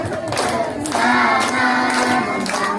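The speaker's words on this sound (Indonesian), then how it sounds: "Tepuk tangan ya." An audience claps hands in a steady rhythm at a regional literacy event in Lampung Barat, Indonesia, the beats sounding over music or singing.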